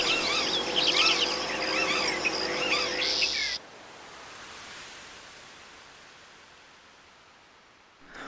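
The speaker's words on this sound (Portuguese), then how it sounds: "Nas matas, era comum ver a imagem e ouvir o canto da gralha" An azure jay sings in a forest, a burst of bright, repeated chirping calls over a steady low hum that cuts off abruptly after about three seconds, leaving faint hiss.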